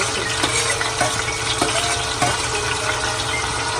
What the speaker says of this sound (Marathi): चांगला तर परतून घेतो.